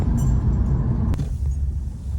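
A car engine idles smoothly after an ignition coil replacement, a low steady rumble close by with a brief click partway through.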